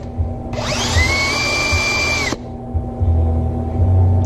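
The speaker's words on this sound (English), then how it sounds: "You're going to fit this down inside the lip and spin this ring so it gives it a really super fine," A coin ring spun on a rubber mandrel while being polished, giving a steady high whine with tonal overtones that starts abruptly, holds for about two seconds and cuts off, over a constant low machine hum.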